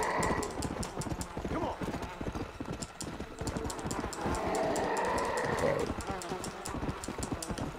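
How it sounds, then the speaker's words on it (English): Horse hooves clip-clop in a steady rapid rhythm while riding in the Red Dead Redemption Undead Nightmare video game, continuous and fairly close, with faint talk underneath. "Right, ride horse."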